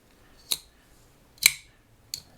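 Three sharp metallic clacks spaced about a second apart, close and crisp, a Benchmade Mini Bugout pocketknife blade snapping shut, in quiet surroundings.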